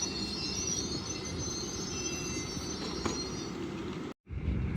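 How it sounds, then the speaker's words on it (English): An LNER Azuma train pulls into Newark Northgate station with a loud steady rumble of wheels on rails and high squealing brakes, briefly cut off near the end. "Arriving in now is your delayed 1458 LNER Azuma service from York to London King's Cross."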